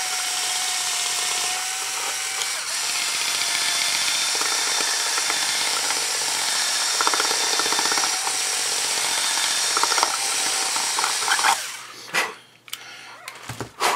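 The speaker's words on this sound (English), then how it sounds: "I'll have to wallow this out just a little bit with the drill on the cowl" A power drill whirs continuously at close range, enlarging a hole in the cowl of a Sig Somethin' Extra build, its pitch wavering slightly, then stops and gives way to a few clicks and handling knocks.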